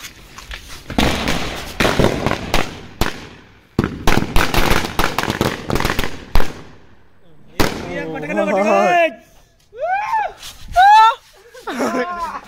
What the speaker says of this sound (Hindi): अब जलाने जा रहे हैं पटाखों की लड़ी